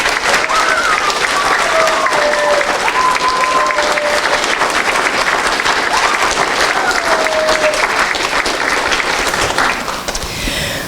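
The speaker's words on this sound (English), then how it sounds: "Please let's give our sponsors and our donors a round of applause too." A theater audience at a pirate musical performance applauds sponsors and donors, sustained loud clapping for about ten seconds with some cheering and voices, then fading out.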